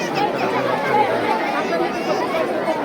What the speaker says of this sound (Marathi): एवढी डेंजर गर्दी आहे इथं